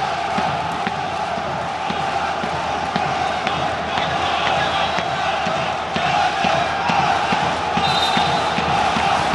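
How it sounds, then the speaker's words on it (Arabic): Lebanese basketball fans cheer and roar steadily throughout a Dubai arena during the final of the 27th Dubai International Basketball Championship, a dense, loud crowd wash with whoops rising above it. "هذا الجمهور اللبناني بدبي."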